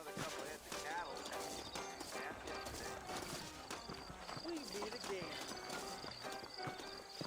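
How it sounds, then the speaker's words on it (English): Horse hooves clip-clop in Red Dead Redemption as horses stand saddled out front, a steady light clatter under continuous speech, with a brief whinny-like tone partway through. "I got the horses saddled up and ready out front"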